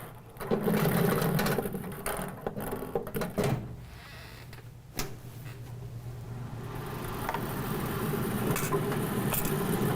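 A bingo ball machine churns its numbered balls before a full-card game, giving a steady, fairly loud mechanical whirring and rattling throughout.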